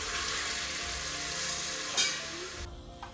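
Spices frying in a pot of mutton korma give a steady, close sizzle, with a brief scrape of stirring and a clatter near the end.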